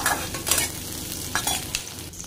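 Lightly browned onions and capsicum sizzle in hot oil in a wok, a close steady frying hiss broken by several spatula scrapes and stirring bursts, no voices.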